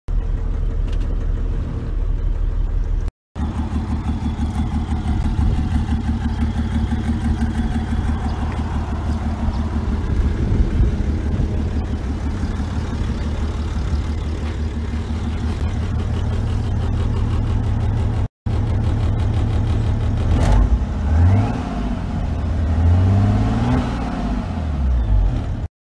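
The first Local Motors Rally Fighter ever built runs its engine on its first drive in seven years, a loud, steady low rumble that swells as it pulls away, with brief dropouts in the recording.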